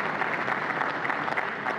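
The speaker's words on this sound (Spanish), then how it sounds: "un aplauso para hermano Fidel Castro" Audience applause fills the whole stretch, a continuous dense patter of many hands clapping at a steady, moderately loud level.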